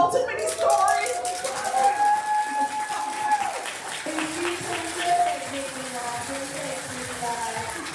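An audience at an IAHSP ConExpo talk applauds, a steady wash of clapping throughout, with a voice speaking over it.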